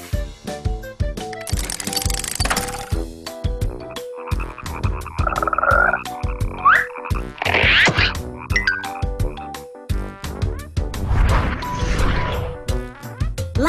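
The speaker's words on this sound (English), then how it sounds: "Frog starts with the letter F." Frogs croak in a series of sharp, loud calls mixed with clacks and bursts, repeated irregularly and close up, with no talking.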